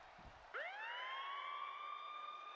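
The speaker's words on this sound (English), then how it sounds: "And as the siren goes" Wrestling event entrance siren wailing up sharply after a brief thump, then holding a loud, steady electronic tone.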